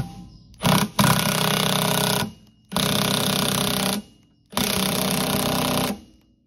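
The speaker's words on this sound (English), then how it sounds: "I just use a Milwaukee 18 volt impact." Three loud bursts from a Milwaukee 18-volt cordless impact wrench with a 22 mm socket, working on the front suspension of a 2020 Yamaha YXZ-1000R, each burst lasting about one to one and a half seconds with short pauses between.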